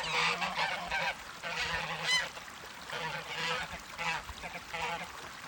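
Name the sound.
geese honking on a farm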